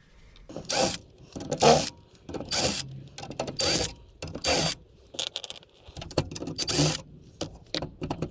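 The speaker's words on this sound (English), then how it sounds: "I'm going to loosen up all these bolts." Bolts on a locked-up DeWalt miter saw motor are worked loose with a hand tool, producing bursts of ratcheting clicks and metallic scraping separated by short quiet gaps, close-up and alone.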